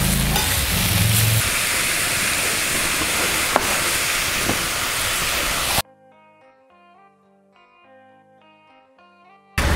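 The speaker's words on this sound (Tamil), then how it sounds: "ஸோ ஆனியனை நல்லா கோல்டன் ப்ரௌன் இந்த டெக்ஸ்சர் வர வரைக்கும் நம்ம வந்து நல்லா ஃப்ரை பண்ணிடலாம்" Sliced onions frying in a pan until golden brown, a steady loud sizzle with a few sharp pops for several seconds, after which the sizzle stops and soft background music plays alone.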